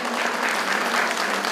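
Audience applause at a food and agriculture education expo in Hualien, a steady broadband clapping from a crowd sustained evenly through the whole moment.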